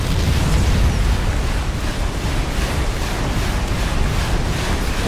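A bomb blast in StarCraft II: Wings of Liberty, on the hardest campaign difficulty, gives a loud, sustained roaring rumble that runs steadily for about five seconds with no speech.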